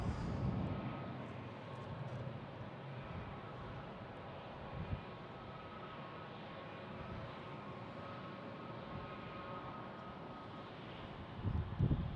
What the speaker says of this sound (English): And taking off on 9, we have United Airlines heading to Denver.